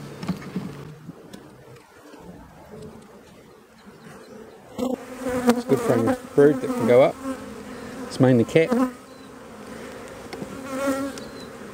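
Dense honeybee buzzing at an open hive hums steadily throughout, with a voice speaking intermittently over the swarm.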